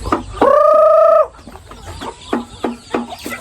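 Bantam chickens on a farm, one loud drawn-out squawk near the start followed by a series of short, rhythmic clucks close by, with chicks around.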